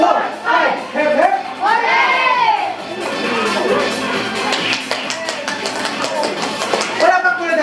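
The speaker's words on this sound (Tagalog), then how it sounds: "Palakpak muna tayo dyan, palakpak muna." Children and guests at a fourth birthday party in the Philippines clap in bursts among shouting and cheering, while a host talks loudly over them.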